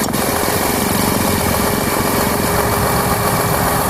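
A Renault Kwid idles with its AC compressor engaged, a steady close engine drone with faint vibration and a continuous hiss, unbroken for the whole stretch.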